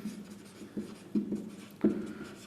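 Chalk or marker writing on a board in a maths lesson, a few short scratchy strokes in quick succession, close and fairly quiet with no talk over it.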